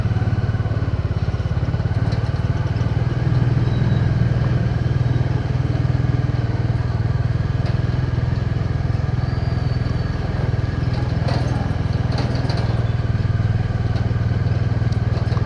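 A Bajaj Dominar 400 motorcycle idles steadily with its cooling fan running, a close, continuous low engine hum with a constant whirring layer and occasional faint clatter.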